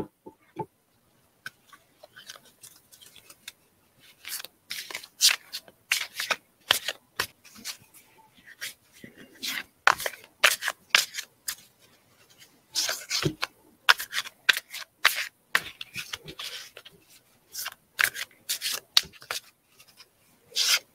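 Tarot cards are shuffled and drawn, giving a long run of crisp riffling, rubbing and snapping card sounds in irregular bursts, close and fairly quiet, with no talk.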